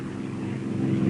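Fairey long-range propeller monoplane droning in archive footage, a steady, loud engine hum with a low rumble that holds and swells slightly over a brief moment.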